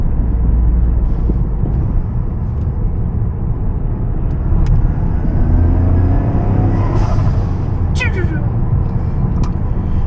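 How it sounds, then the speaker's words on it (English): A Toyota GR Corolla engine rumbles steadily, with a brief fluttering turbo whoosh and chirps from an aftermarket GFB blow-off valve near the end; no voices. "the blow-off valve is working right and it sounds great"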